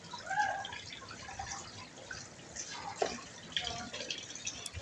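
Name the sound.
washing dishes and cookware with water after cooking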